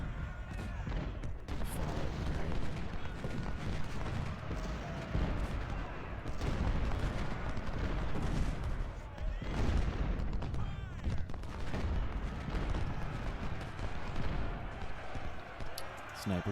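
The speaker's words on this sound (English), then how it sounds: "Oh, that was the carbine fire" Carbine fire from a Civil War battle in the Ultimate General strategy game, heard as dense, continuous crackling volleys of musketry and booming artillery that keep going, loud and busy throughout, with a voice talking faintly in the mix.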